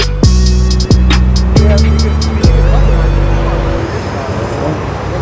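Cars rolling in and parking at a Z car club meet at Ace Cafe, with loud engine rumble and several sharp thumps like doors closing, set against a crowd murmur and general outdoor noise.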